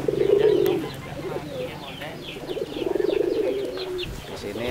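Pigeons coo in repeated low, throaty rolls at a pigeon fanciers' gathering, loud and close, with faint chirps and a murmur of people in the background.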